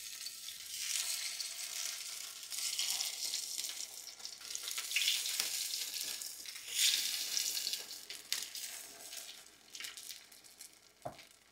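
Batter sizzles in ghee in a hot appe pan, a steady bright crackle and hiss that swells and eases, with a few small clinks of utensils.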